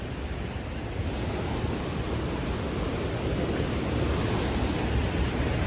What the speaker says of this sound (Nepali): खोला चाहिँ बवालै छ